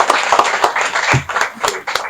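A burst of audience clapping at a formal gathering, sharp separate hand claps in an uneven rhythm, close and fairly loud, with some voices mixed in.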